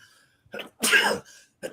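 A single sharp sneeze bursts out loud and close, preceded by a short breathy intake and followed by brief quieter vocal sounds.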